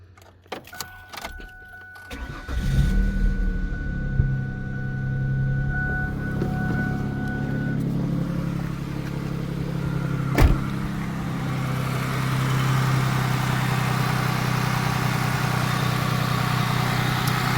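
A 1999 Ford Taurus SE DOHC engine cranks with jangling keys, catches and settles into a steady, close idle with a low rumble, alone with no talk.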